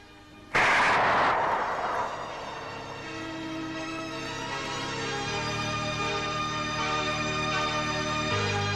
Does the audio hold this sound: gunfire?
yes